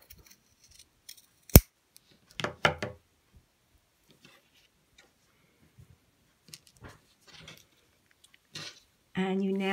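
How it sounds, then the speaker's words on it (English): Scissors snip fabric corners at an angle near the stitching while making a fabric bunny treat bag, heard as a few short, close cutting clicks in an otherwise quiet room, with a sharp knock early on. "you cut from the corner here, but do not cut into this stitching, and cut on an angle down to the pin mark"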